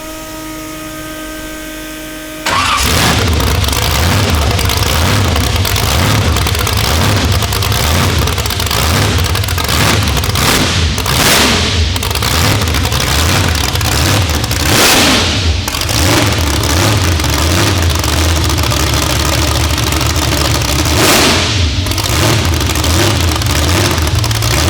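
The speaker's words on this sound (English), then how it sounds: "let me start this thing up for you. It's your typical blower motor." Supercharged blower-motor car engine cranks and fires after a quiet moment, then idles loudly with a lumpy rumble and is blipped through several sharp revs, close and continuous throughout.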